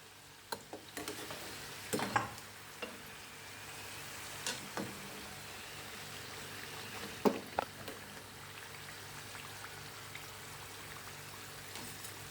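Pieces of traditional kebab meat fry and sizzle in hot oil, a steady low crackle broken by a few sharper pops and stirring knocks, heard up close with no talking.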